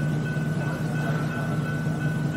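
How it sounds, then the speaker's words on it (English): A Busch Gardens steam train idles before pulling away, with a steady mechanical rumble and a sustained tonal hiss. There is no clear motion or chuffing. "This train is about to be in motion, heading towards Caribou, New France."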